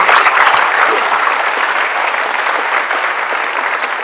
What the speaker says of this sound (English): please stand up and let's get a round of applause to them